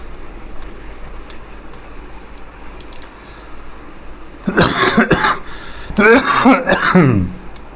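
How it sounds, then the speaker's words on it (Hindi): Harsh, close coughing and throat clearing in two rough bursts after a few seconds of faint background noise, with no speech. "भाई खांसी नहीं जा पा रही है हमारी।"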